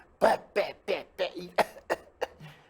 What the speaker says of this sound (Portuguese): Você fica aquela tosse irritante